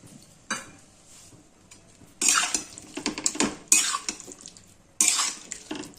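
Chicken coated in ginger-garlic paste is stirred in a pan with a utensil, giving several loud bursts of scraping and clattering against the metal, with quieter gaps and a faint sizzle between them.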